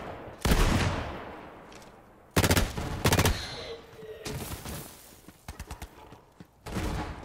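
Assault rifle fire in the Borderlands 3 shooter: sharp bursts of rapid shots in several separate volleys, loud and close, with short gaps of game ambience between them.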